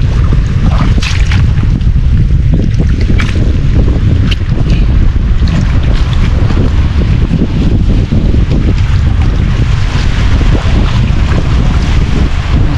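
Strong wind roars and buffets the microphone continuously, with the rumble of rough water and big waves underneath, on a rocky shore.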